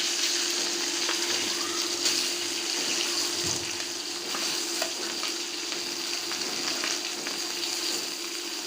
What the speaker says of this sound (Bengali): মাছগুলো উল্টিয়ে পাল্টিয়ে ভেজে নেব